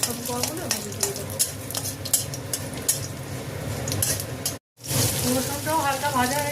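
Black cumin seeds and dried chillies fry in a pan for a Bengali bean bhorta, a steady crackling sizzle with stirring scrapes and light utensil clinks, close by, broken by a brief silent gap before the frying resumes.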